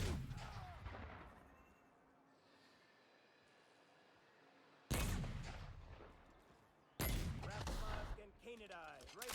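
Grenade launcher shots in The Outer Worlds: a quiet stretch, then two sudden loud booming blasts a couple of seconds apart, each with a rumbling tail.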